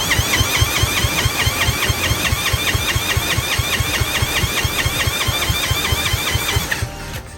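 A diesel engine is cranked over by its starter, heard up close as a loud, rhythmic chugging with regular compression pulses that ends abruptly near the finish.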